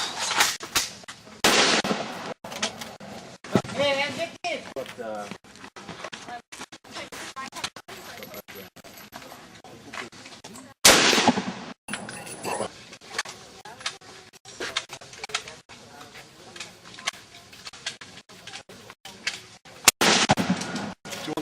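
Sharp, loud rifle reports from an AK-47 at an outdoor rifle range, several spaced single shots with ringing tails, people talking faintly between them.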